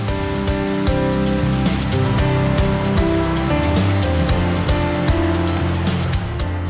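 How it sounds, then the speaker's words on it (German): A waterfall dropping about 60 metres roars in a dense, unbroken rush of falling water, loud and steady throughout with no voices. "Das Wasser rauscht rund 60 Meter in die Tiefe"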